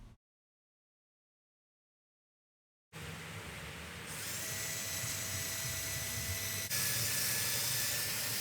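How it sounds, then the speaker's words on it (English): A power drill whines steadily as it bores holes into an Audi A4 B8 rear diffuser, running continuously after a brief silence and rising slightly in pitch and loudness partway through. "I'm going to have to drill a few more holes."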